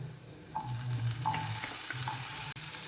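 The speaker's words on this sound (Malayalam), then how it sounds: "ഇതിലേക്ക് നമുക്ക് ക്യാപ്സിക്കം ചേർത്ത് കൊടുക്കാം." Onion and capsicum fry in a pan with a soft steady sizzle, punctuated by a few stirring scrapes and a brief clink near the end.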